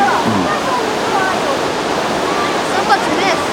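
Roaring Yosemite waterfall throwing up mist, a steady broadband rush of falling water heard close and loud throughout, with people talking faintly over it.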